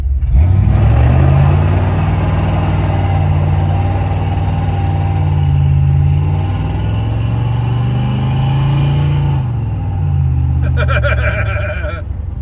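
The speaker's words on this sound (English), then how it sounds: "It runs, it drives, it burns tire." Truck engine running loud and close while driving and burning tires, a steady low rumble with gentle rises and falls in revs over about ten seconds, then a brief clattering noise at the end.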